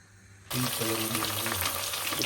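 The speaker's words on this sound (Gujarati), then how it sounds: "તેલ મૂકી અને પહેલાં મેં રાઈ જીરું નાખી અને હવે આ નાખી દીધું છે ગલકા, આપણા ઇન્ડિયન ગલકા" Ridge gourd (galka) goes into hot oil already holding mustard seeds and cumin, setting off a sudden loud sizzle that holds steady and close, a dense crackling hiss with no voices.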